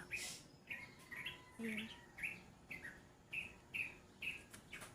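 Birds sing in a chico tree at dawn, giving bright, repeated chirps in a steady rhythm, fairly near but faint, with one brief spoken word.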